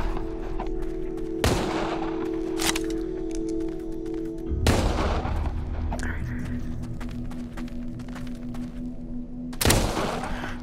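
Gunshots in a video game, three loud sharp bangs spaced several seconds apart over a steady humming game background.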